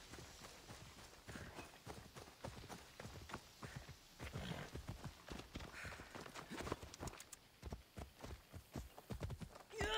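Horse hooves clip-clopping across ground in Assassin's Creed Odyssey, an irregular run of moderately near thuds with a brief whinny, heard under intermittent game ambience.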